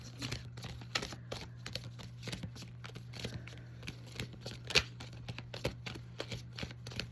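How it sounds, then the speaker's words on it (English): Soft, rapid riffling and flicking of tarot cards being shuffled, with quick papery bursts close by under a faint steady hum. "Anyway, we're gonna shuffle."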